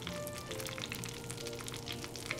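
Red velvet aebleskiver batter sizzles and crackles steadily in a hot, bubbly aebleskiver pan, a close, continuous frying hiss with no talking.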